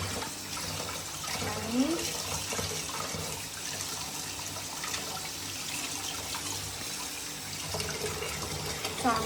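Pomfret fish being washed under a running kitchen tap, with a steady stream of water splashing and trickling continuously, fairly close, while a person speaks briefly over it.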